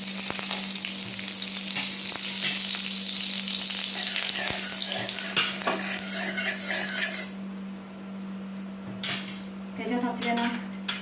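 Ground coconut and chili fry in ghee in a pan, a constant loud sizzle with a low hum underneath, broken by metal spoon scrapes and clinks as the mixture is stirred; no one speaks.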